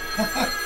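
A telephone rings in a short double burst, fairly close and clear, lasting under a second.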